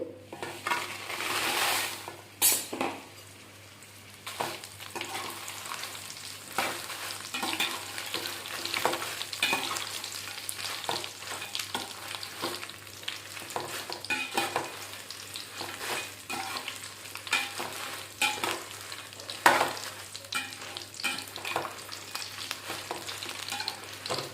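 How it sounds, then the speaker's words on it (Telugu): Dried red chillies frying in a little oil for an Andhra-style coriander pickle crackle and sizzle continuously, with frequent scraping and stirring of a spoon against the pan and occasional louder clatters. "ఇప్పుడు ఎండుమిర్చి వేయించుకోవాలి"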